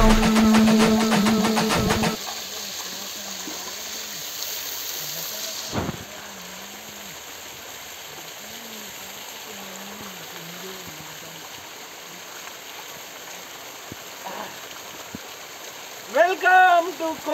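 A steady rush of water at Kona (Honey Bee) waterfalls in Yadiki, Anantapur, Andhra Pradesh, heard after a short burst of music. A voice hums or speaks over the continuous hiss, and brief noises sound near the end.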